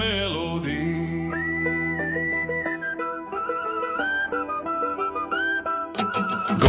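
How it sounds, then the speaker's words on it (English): A slow, mournful whistled melody carries a dark country outlaw song, long sustained notes gliding between pitches over a low droning accompaniment, ending with a sharp percussive hit. "Slow whistle melody"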